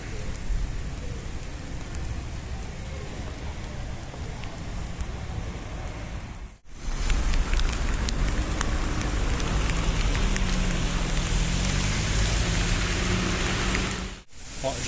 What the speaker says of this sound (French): Il pleut sur Ponferrada.